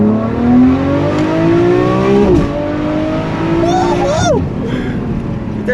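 A Ferrari 599 GTO's engine pulls hard and loud from inside the cabin, rising in pitch, dropping sharply at each gear change, then climbing again, with two clear shifts.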